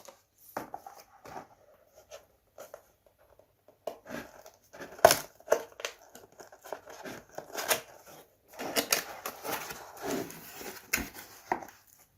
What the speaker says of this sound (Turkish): Klavyemizi isterseniz kutusundan çıkaralım.